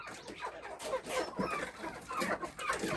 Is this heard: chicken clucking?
yes